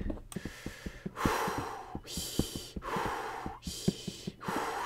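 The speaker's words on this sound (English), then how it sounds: "Steady breathing." Steady, rhythmic breathing, close and fairly loud, with each long breath rising and falling about once a second alongside faint ticking sounds, set on a deserted island full of sheep.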